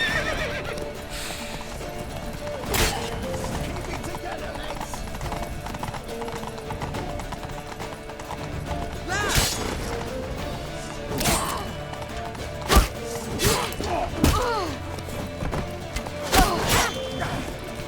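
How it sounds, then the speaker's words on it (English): In The Witcher 3 video game, horses whinny and hooves clatter at a gallop amid loud crashes and thuds, with brief shouted voices over a busy, dense soundscape. "Grab a horse to the temple!"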